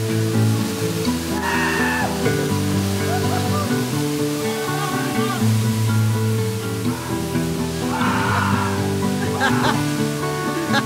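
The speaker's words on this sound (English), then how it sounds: "I think we're gonna go in under the waterfall." A waterfall roars as a dense, steady rush close by, with soft voices briefly heard beneath it.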